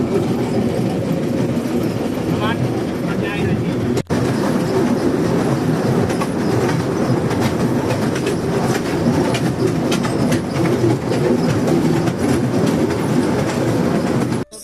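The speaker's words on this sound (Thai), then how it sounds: "มาถึงถ้ำก็จะมีรถรางบริการนะครับ แต่ว่าต้องซื้อตั๋วนะครับ" A rail tram at the Elephanta Caves in India rumbles along steadily with clattering wheels and faint squeals, loud and continuous throughout, no voices.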